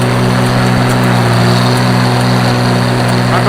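An Oliver 1800 tractor pulling a 129 haybine while mowing hay, its engine droning loudly and steadily with a strong low hum and no pauses.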